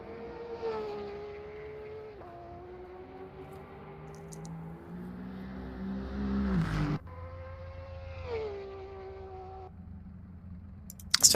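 A V10 race car engine in a racing video game drones at a high, steady pitch, shifting through gears and revving up before dropping, moderately loud with no talking.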